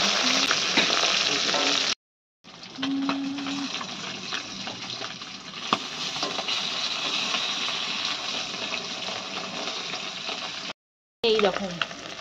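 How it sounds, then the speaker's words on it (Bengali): Food frying in a pan for a home-cooked lunch, giving a loud, steady, close sizzle that runs almost continuously, broken by two brief cuts to silence. "এটাকে একটু ভেজে নেওয়া যায়"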